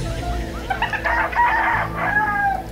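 A rooster crows once, loud and close, with farm ambience and a low background hum.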